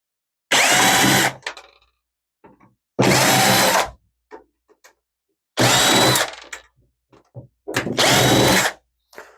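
A power drill backs screws out of the rear of a 2010 Dell Vostro 460 desktop's power supply in four loud, close bursts of about a second each, separated by quiet gaps with light handling clicks.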